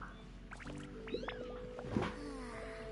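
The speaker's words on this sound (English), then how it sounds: "Cat." A cat meows in the video game Genshin Impact, giving a couple of short, rising mews over a steady bed of soft ambient game music.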